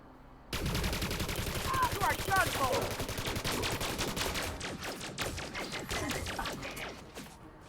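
Gunfire in the Carry On Tuesday video game: a sudden burst of rapid automatic shots that continues loud and dense for several seconds, with metallic clatter mixed in.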